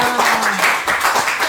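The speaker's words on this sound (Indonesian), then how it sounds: "Wah, tepuk tangan dulu buat Erika dong." Audience clapping for a guest on an Indonesian talk show, a brief patter of hand claps with voices mixed in.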